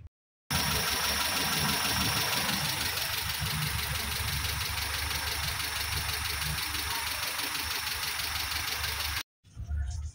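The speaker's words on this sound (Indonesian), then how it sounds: "lancar ya mesinnya sangat normal di sini" A car engine idles steadily and evenly after its radiator has been cleaned following overheating, a continuous close mechanical hum with a dense low rumble, cut off briefly at the end.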